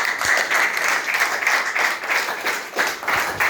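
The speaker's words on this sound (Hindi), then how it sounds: "मैं चाहूंगा कि एक बार जोरदार तालियां बजाएं।" A meeting audience claps loudly, a close, sustained burst of many hands with slight surges in rhythm, continuing without talk for several seconds.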